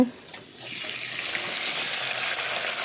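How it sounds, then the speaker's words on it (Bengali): Chicken pieces hit a hot pan after a quiet moment, setting off a loud, broad sizzle that holds steady to the end. "এখন চিকেনগুলোকে ঢেলে দেওয়া হবে"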